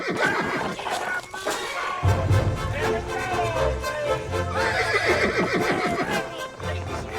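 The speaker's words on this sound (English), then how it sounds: "I swapped his horse for Golden Star, the bucking bronco." A horse neighs loudly and repeatedly, shrill whinnies overlapping with snorts and hoof clatter, close and agitated throughout.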